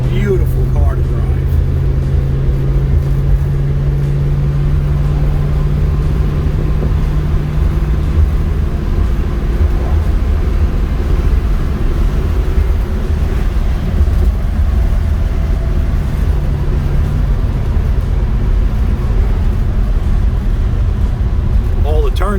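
A 1953 Ford Crestline Victoria with a V8 and automatic transmission drives along on a test drive, its engine a steady low rumble that lasts the whole time, with someone talking over it.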